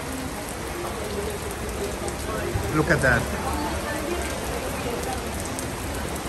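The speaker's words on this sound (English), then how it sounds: "We had heavy rain in Medjugorje suddenly." Sudden heavy rain pours down in Medjugorje, a steady dense hiss of drops on surfaces that lasts throughout, with a brief spoken remark nearby partway through.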